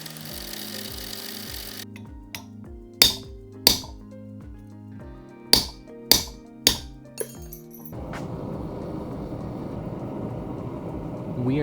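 A grinder with its tool rest set to 40 degrees shapes the main bevels and relieves the sides of a homemade chisel graver for engraving. A steady motor hum is broken by a few sharp metallic clinks, then a louder rough grinding rasp near the end.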